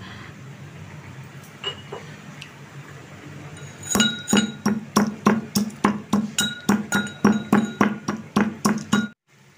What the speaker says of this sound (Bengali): এরপর আমি হামালদিস্তায় নিয়ে নিচ্ছি, নিয়ে গুঁড়ো করে নেব